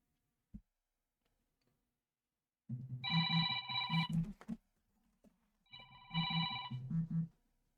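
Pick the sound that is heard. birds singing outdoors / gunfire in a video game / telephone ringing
telephone ringing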